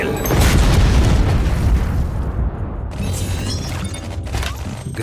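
Artillery fire in the Iron Marines video game booms in a dense, loud barrage of deep blasts and rumbling bursts that roll together, then thin out toward the end.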